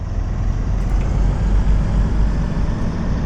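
A steady, low train engine rumble in the video game Train Sim World 4 drones on without pause, heavy and bus-like, with no voices over it.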